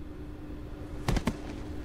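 A gunshot in The Walking Dead video game: two quick hard bangs close together, fairly loud over a steady low game hum.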